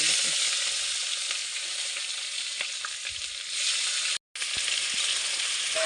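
Chopped onions and peeled garlic cloves frying in hot oil after whole spices and bay leaves, a loud continuous sizzle with occasional stirring scrapes and a brief cut-out near the end.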